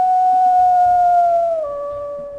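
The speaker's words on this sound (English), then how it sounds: "he also got that very deep howl" A deep, steady wolf howl from WolfQuest, sustained and loud with a slight downward bend in pitch near the end, then holding lower and fading a little.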